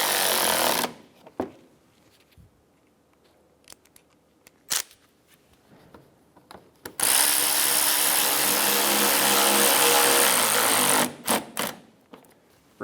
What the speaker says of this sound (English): Install the bottom 2 screws for the front fender liner.